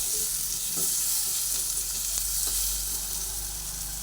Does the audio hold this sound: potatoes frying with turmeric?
yes